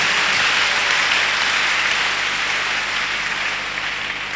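A church congregation at a Friday morning service applauds to acclaim Jesus. The clapping is a dense, sustained wash of sound that stays loud throughout and eases slightly near the end.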